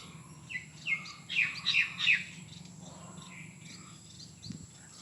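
A bird calls from a tree with a quick run of sharp, clear chirps early on and a fainter call near the end, over a soft, constant insect hum.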